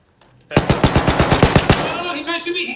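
Rapid automatic gunfire in a video game, a loud close burst of about a dozen evenly spaced shots followed by a ringing, echoing tail.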